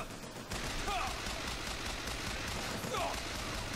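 A crank gun in BioShock Infinite fires a dense, continuous stream of rapid shots, a rattling wall of gunfire across the whole stretch, with brief voice snippets poking through.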